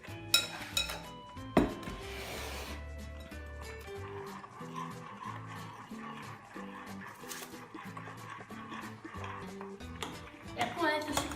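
Cake ingredients mixed in a bowl, with scraping and clinking of utensil against the bowl under steady music; a couple of louder knocks near the start.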